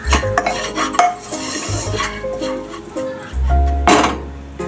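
Dal and broken wheat (dalia) roasting in a pan over a low flame, stirred with a metal spoon that scrapes and clinks against the pan in uneven bursts, close and fairly loud, with a steady hum underneath.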